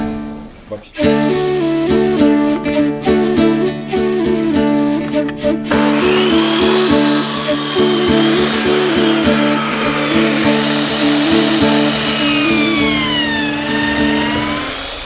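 A power drill runs loudly and continuously up close, its motor tone steady while it drills into wooden yurt battens, with the pitch shifting partway through.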